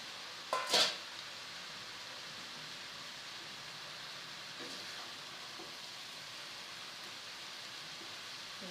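Swiss chard sizzles steadily in a pan as it is stirred, with a sharp metallic clink at the start and soft scraping afterward.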